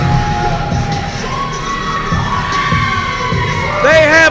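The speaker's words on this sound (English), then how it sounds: "Listen to this crowd. I can't hear myself talking." A wrestling crowd at the Jenny Rogers Community Center in Danville, Kentucky roars and cheers loudly and without a break, a dense wall of shouting voices that swells near the end with high whistling or screaming tones.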